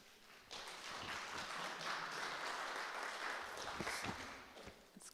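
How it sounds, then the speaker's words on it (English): Audience applause at a conference practice session, starting abruptly and continuing as a steady moderate clapping before trailing off. "Let's have a round of applause for Daniel."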